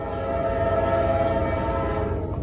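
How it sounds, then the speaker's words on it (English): A train rumbles past close by a boat in a marina, a low steady roar with a sustained horn-like tone held throughout, no voices. "Here comes the train."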